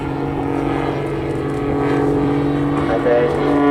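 Jet-powered Pitts aerobatic biplane performing inverted flight and a flat turn at Southport Airshow, a loud sustained engine drone with shifting tone, while a commentator talks over it.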